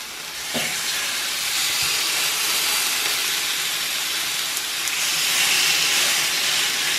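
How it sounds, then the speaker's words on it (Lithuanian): Steaks sizzle on a heated electric grill, a loud, steady broadband hiss that stays close and continuous throughout with no talk. "Na štai grilinė jau kaito, dega žalia šviesa. Dedam kepsniukus."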